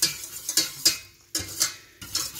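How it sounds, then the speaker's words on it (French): A utensil scrapes and swirls through a milk and cornflour sauce in a pan, in short rhythmic strokes of about six or seven passes, close and fairly quiet with no talking. "Là c'est on touille."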